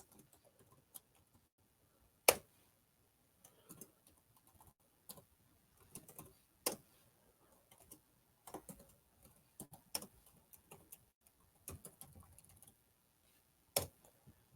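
Keys tapped on a computer keyboard while typing a chat message, quiet irregular clicks in short bursts with a few sharper strikes and pauses between, close and alone with no talking.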